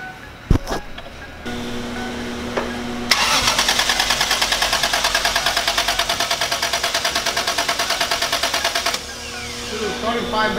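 A car engine in a BMW E30 wagon with a swapped 1JZ engine cranks for several seconds with a rapid, loud, even churning, then catches and settles into a lower idle, with people talking nearby.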